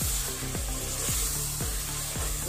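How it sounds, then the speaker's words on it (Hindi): Ginger garlic paste and spices are stirred in a frying pan, the spoon scraping in regular strokes about every half second over a continuous sizzle, close and alone without talk. "और अब इन सारी चीजों को हम अच्छी तरह से मिक्स करेंगे"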